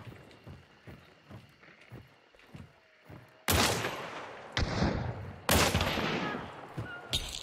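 Gunshots in a bounty-hunting video game. Light rhythmic thumps come first, then two loud, sharp bursts of gunfire with echoing tails, and a third shot cuts in at the end.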